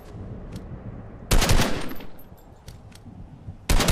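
Gunfire in Fortnite during a squad match: a short faint burst early on, then a loud burst of shots from about 1.3 seconds, and another loud burst cutting in right at the end, over low game background noise.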